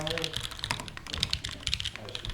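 Mechanical keyboard typing test at an enthusiast meetup, a fast busy patter of clacking keystrokes with sharp bright clicks, heard close while people talk and murmur around it.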